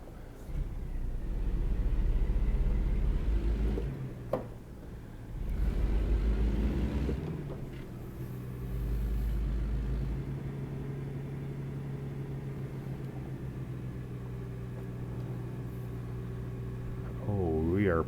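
Truck engine in American Truck Simulator, an 18-speed rig hauling a big double-articulated trailer, drones steadily with low rumble swells as it pulls away, with a brief rising whine near the end.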